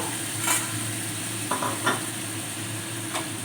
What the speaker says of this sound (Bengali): এবার আমি এর মধ্যে দিয়ে দিলাম আন্দাজ মতন জল এবার একটু ফুটতে দেব